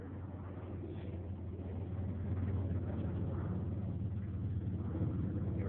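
A 1994 Mitsubishi 3000GT with a full stainless steel exhaust from the headers back idles with a steady low rumble, close and continuous, growing slightly louder after the first couple of seconds.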